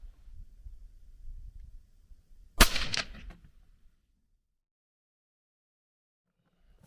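A single sharp rifle shot from a Ruger American firing hot 140-grain ELD hand loads at a range, one loud crack with a short decaying tail over low background rumble, then near silence.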